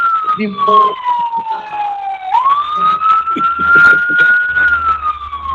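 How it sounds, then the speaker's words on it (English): An ambulance siren passes close by with a steady wailing sweep that dips and rises, loud over rumbling traffic while people talk in the background. "there's an ambulance coming by"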